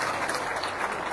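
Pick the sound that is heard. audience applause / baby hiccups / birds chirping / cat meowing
audience applause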